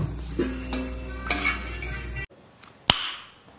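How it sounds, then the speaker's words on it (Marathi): Mutton curry (vade mutton) stirred in a pot: a spoon scrapes and clinks against the metal over a low sizzle, then a sudden quiet and one sharp knock, close by, no voices. "वडे मटन जरासं हलवून दाखवा."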